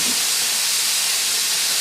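Ground beef sizzles loudly while browning in a pan, a dense, constant hiss heard close up with no talking.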